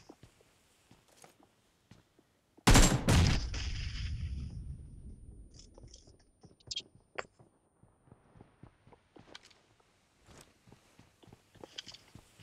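A loud burst of gunfire from a video game erupts suddenly and decays into a rumbling tail, followed by scattered quieter clicks and in-game effects.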